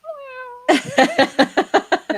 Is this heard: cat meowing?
yes